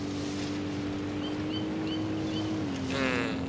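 A motorcycle engine in the Ghost Recon Wildlands video game drones steadily at an even pitch, then shifts lower near the end as a brief whooshing rush rises over it.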